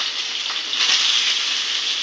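Chopped onion, green chilli and curry leaves fry in hot oil, a dense bright sizzle that swells slightly partway through, close and alone.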